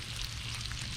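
Bacon sizzles steadily on a Pit Boss griddle at a campsite, a soft continuous frying hiss heard from close by.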